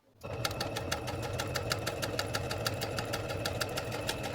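A sewing machine stitches old denim jeans at a steady pace, its fast rhythmic needle chatter close and continuous after a short start.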